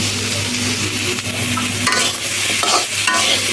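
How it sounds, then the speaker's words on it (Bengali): Half-boiled seeds stir-fried in a pan, a close, steady sizzle broken by repeated scraping stirs of the utensil against the pan, with no talking. "ওই যে বিচিগুলো এখন ভালো করে ভেজে নিতে হবে"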